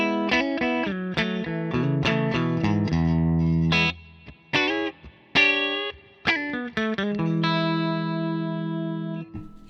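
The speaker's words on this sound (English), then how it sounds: "Here's what the reverb sounds like about half power." An electric guitar plays chords and single notes through a Harmony H650 vintage-style amplifier with its reverb set at about half, the notes ringing out and trailing off with a spacious wash between phrases.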